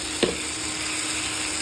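Tomatoes dropped into hot masala for a paneer curry give a brief splash at the start, then a steady bright sizzle and fry that carries on evenly at close range, with no talking.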